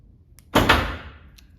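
A Chevy OBS lowrider truck door pops open on newly fitted door poppers: one sharp release around mid-clip, then a second close behind it, fading with a short rattle and a faint click afterward.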